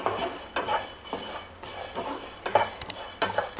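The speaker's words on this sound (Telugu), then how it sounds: "ఇవి కొంచెం వేయించుకోవాలి ఈ కొబ్బరి కూడా తొందరగా వేయిపోతుందండి" Grated coconut is fried and stirred in a pan, with repeated scraping and clinking strokes of a utensil against the metal in an uneven rhythm, close and moderately loud, with no talking.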